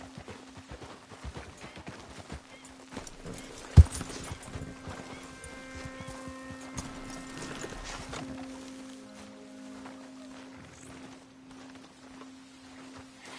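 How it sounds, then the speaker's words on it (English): Horse hooves and neighing in Red Dead Redemption 2 come through as soft, distant hoof clops under a low steady hum, with one sharp knock partway through and faint tonal calls in the middle. "Get a hold of that horse,"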